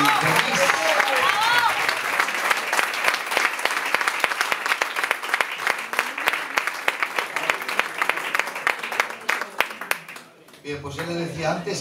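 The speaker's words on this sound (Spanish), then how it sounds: "Otro aplauso para él." Audience applause for a pianist at a tribute concert, a dense, sustained burst of clapping that fills the room for about ten seconds before dying away into a voice speaking.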